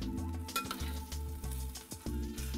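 Ong choy and beef stir-fried in a pan, steady sizzling with a few scrapes and clinks of a utensil stirring, close and fairly quiet, without talk.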